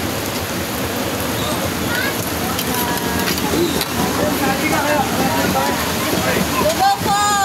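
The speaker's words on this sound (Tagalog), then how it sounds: "Kasi palakas ng ulan, oh." Heavy rain pours down steadily during a typhoon in the Philippines, a dense, loud, constant wash of water, while people talk and call out nearby.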